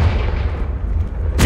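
Confringo blasting spell explosion in the video game Hogwarts Legacy: a loud, sustained rumbling blast with heavy low-end booming, ending in a sharp bright burst, with no talk.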